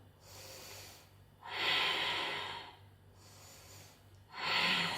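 Two slow, audible exhalations, each a long breathy push of air with a quieter inhale between them, come from a person during a Pilates exercise, close and soft in a quiet room.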